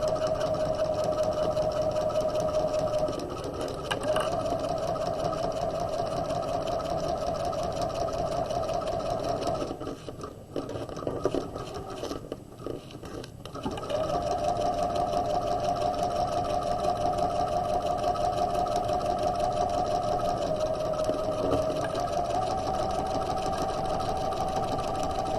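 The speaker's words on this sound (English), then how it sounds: "we're going to stitch down the folded edge of our facing" A sewing machine runs steadily while stitching down the folded edge of a quarter-zip jacket's front facing, with a loud, close, even mechanical whir that breaks off briefly partway through and then starts again at the same pace.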